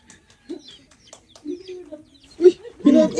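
A chicken, just dropped after being thrown, clucks in short uneven bursts close by, mixed with people's excited shouts and chatter.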